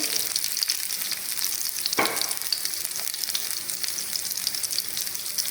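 Green chilli frying in hot oil for Punjabi kadhi pakora, a continuous bright sizzle that holds steady, with a sharp burst of crackle as the chilli drops in partway through.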